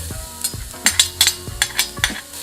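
Garlic sizzles steadily in a hot, shiny skillet while a utensil stirs it, tapping and scraping against the pan in quick, uneven clicks.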